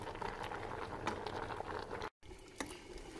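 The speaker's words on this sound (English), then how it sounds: "Do you hear that beautiful sound?" Tomatoes boiling in a pot bubble and pop steadily, close up, with a brief dropout partway through and a few sharper pops.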